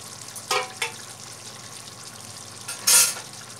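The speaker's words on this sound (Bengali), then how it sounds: "ভাজা চিংড়ি মাছ মিশিয়ে দেবো" Frying sizzle as fried prawns are stirred into gravy with pointed gourd and potato, two short bursts of stirring early on and another scraping stir near the end, no voices.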